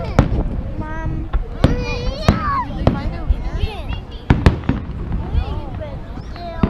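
Fourth of July fireworks going off nearby, sharp bangs and crackling pops scattered irregularly through the clip, heard under lively chatter from adults and children.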